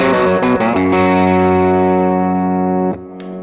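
An electric guitar with Flying Mojo humbuckers, tuned to open G and played through a distorted amp, strikes a few quick chords and then lets one ring out in a sustained, harmonically rich tone before it is cut off.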